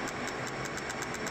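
A machine engine idling slowly at low revs, giving a steady, even hum with faint rhythmic pulses repeating throughout, close and continuous.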